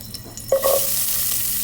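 Oil sizzles as it goes into a hot pot for Ilocano-style boiled pork, a sharp hiss rising about halfway through and then a steady frying crackle held up close with no voices.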